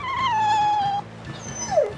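A dog in Tales of Berseria lets out a long, high, wavering whine, then a short rising yelp after a brief pause, heard clearly over soft game music.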